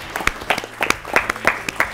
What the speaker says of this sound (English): Let's clap for them, please.